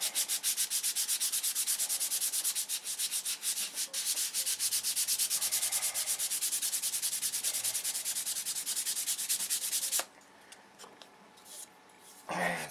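Hand sanding with a block and 220 grit sandpaper to level paint prep on a control line stunt model airplane: steady, rapid back-and-forth rasping strokes, close and loud for about ten seconds, then quieter scraping.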